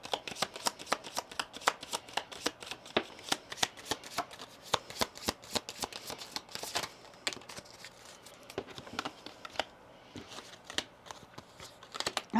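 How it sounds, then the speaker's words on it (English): Oracle cards are shuffled close up, a long run of rapid crisp riffles and soft flicks with brief pauses between bursts and no one talking. "Let's get some oracle cards here for you"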